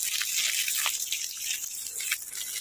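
Garden soil around basil plants being watered after weeding and tilling, a steady soft hiss of water with light dripping and splashing throughout, close and fairly quiet.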